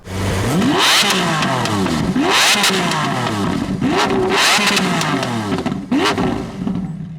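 A Lamborghini Centenario's V12 engine revs hard about five times in quick succession, each blip rising to a roaring howl and dropping back, very close.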